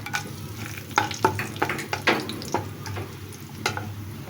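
Whole garam masala spices fry in hot oil after onions for chicken shahi korma, with a steady close sizzle broken by repeated scraping stirs of a spoon against the pan.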